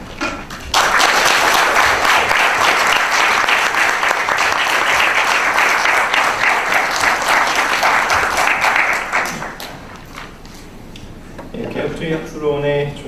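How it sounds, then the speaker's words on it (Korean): An audience at a Reformation commemorative academic seminar claps in sustained, dense applause that fills most of the stretch, then fades out as a voice begins speaking at the end. "한 분씩 이제 교대로 올라오실 때마다 박수를 쳐주시면 감사하겠습니다."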